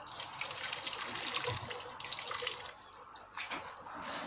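Curdled milk for paneer being poured through muslin cloth over a sieve and bowl in a home kitchen, a close trickling and splashing of liquid with small drips, uneven and fading in bursts.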